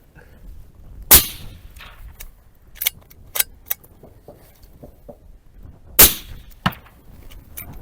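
Two sharp, loud shots from a McMillan ALIAS sniper rifle about five seconds apart, each with a crisp crack, plus fainter clicks and knocks in between against a strongly windy outdoor background.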